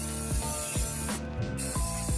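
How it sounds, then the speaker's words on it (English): A spray paint can hisses steadily onto a stencil on a patina-style 1972 C10 build, loud and close, with rhythmic rattling clicks from the can repeating under the continuous spray. "spray paint."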